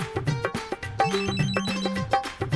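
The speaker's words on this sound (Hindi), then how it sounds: "भाभी फोन आया आपका।" A telephone ringing indoors in a household, a loud repeating electronic ringtone melody close by, with no voices over it.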